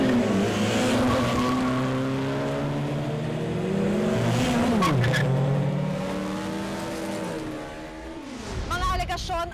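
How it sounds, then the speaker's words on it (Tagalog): Cars in illegal street racing rev and accelerate hard throughout, engines rising and falling in pitch, with tire squeal and skidding near the end. A person talks over the engine noise. "paglaganap ng iligal na karera ng mga sasakyan"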